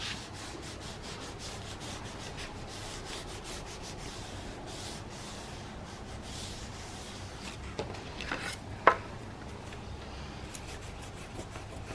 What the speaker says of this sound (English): And burnish, of course.